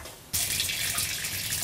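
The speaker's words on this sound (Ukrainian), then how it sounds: "Оце холодна вода." Cold tap water turning on suddenly and then gushing steadily into a sink in a home with rusty water supply, a loud, continuous hiss and splash.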